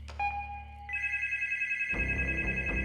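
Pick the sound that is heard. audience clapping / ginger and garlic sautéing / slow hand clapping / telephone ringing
telephone ringing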